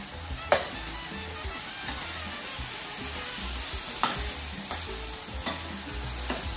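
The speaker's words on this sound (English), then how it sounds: "Let me just give this a beautiful mix." Spices, including coriander, black pepper and garam masala, are stirred with tomatoes in a frying pan. A steady soft sizzle runs throughout, with a few sharp scrapes and knocks of the spoon against the pan, close and quiet, no talking.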